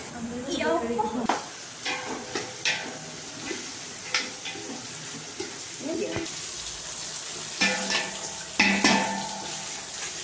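Eggplant sautéed in a pan makes a soft background sizzle, broken by repeated close scraping and stirring knocks of a utensil against the pan, with a person talking intermittently over it.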